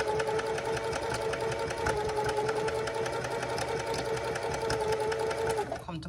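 Sewing machine running steadily while stitching a straight seam, a fast even mechanical whir that holds for several seconds before slowing to a stop, with a voice talking over it.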